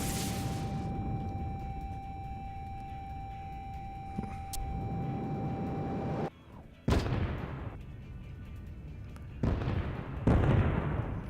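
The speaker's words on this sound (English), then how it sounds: "Launch weapon." A weapon fires from a plane in the flight game SimplePlanes: a low, rumbling launch blast, then two sharper booming bursts later on, alone against a faint steady hum.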